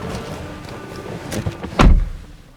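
A car door on a 2014 Mercedes-Benz AMG E 63 4MATIC sedan opens with one solid, close thunk after a stretch of quiet handling noise, and a short fading rustle follows.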